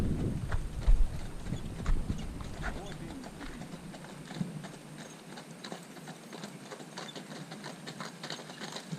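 Horse hooves clip-clop in an irregular, fairly close rhythm on a dairy farm, with mechanical rattling and some faint talk mixed in, loudest in the opening seconds and then thinner.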